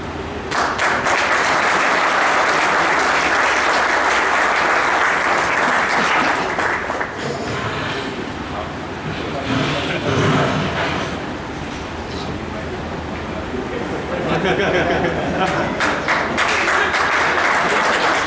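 Audience applause welcoming someone at a 2023 wage-agreement ceremony for a company division in Mandideep, a dense, steady clapping that swells loudly, dips briefly in the middle, then rises again, with voices faintly mixed in.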